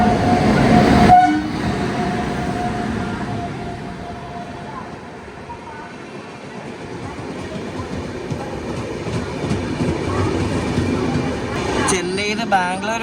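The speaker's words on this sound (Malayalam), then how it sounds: "ബാംഗ്ലൂർ വന്ന ബൃന്ദാവൻ എക്സ്പ്രസ് ആണ് ഈ പോകുന്നത്." The Brindavan Express rolls through Arakkonam station with a low rumble that fades and swells over several seconds, and a horn sounds briefly near the end while a voice talks over it.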